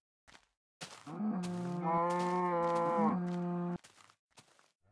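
A cow lets out one long, drawn-out moo in a video game, loud and close with a droning tonal quality, framed by a few short soft thumps before and after.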